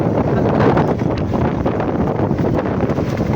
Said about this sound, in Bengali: ঝিলের হাওয়াটা